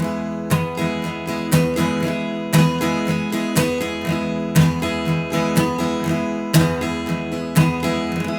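Close acoustic guitar strumming in a pattern, with the second and fourth downstrokes muted by easing left-hand pressure, so dull percussive chops alternate with fuller ringing strums in a repeating rhythm, no talking.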